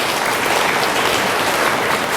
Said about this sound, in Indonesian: Tepuk tangan buat Billionaire Store.